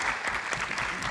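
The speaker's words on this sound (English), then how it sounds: "Give them a big hand of applause here." An audience at a candidates' forum bursts into a short, dense round of clapping that fills the room and continues steadily throughout.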